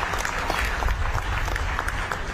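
A crowd at an outdoor political election rally in Kalayat claps in dense, continuous applause that holds steady and loud throughout.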